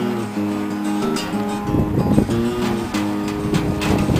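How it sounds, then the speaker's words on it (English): A homemade mini wind turbine prototype spins steadily, its alternator giving a droning whine with tonal harmonics above the soft swish of the blades, continuous and close, with wind rushing across the microphone. "I can hear the alternator over the blades."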